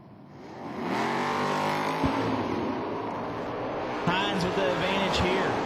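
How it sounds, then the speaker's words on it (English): At a Kentucky bottom bulb drag race, a Mopar and a Mustang launch together, and their engines swell from quiet to a loud, sustained roar with brief sharp bursts. An announcer talks over the noise. "The Mopar dialed 686, taking on Stephen Hines. Mustang dialed 643 out of Paducah."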